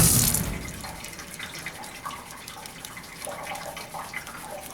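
Water runs from a tap during a surgical hand scrub: a splashy burst at the start, then a steady stream at moderate volume with small splashes and shifts as hands move through it.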